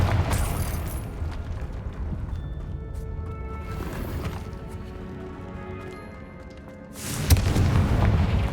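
A Confringo fire spell from Hogwarts Legacy bursts in loud, booming blasts, with heavy rumbles near the start and again near the end over a continuous low roar of ambient game sound.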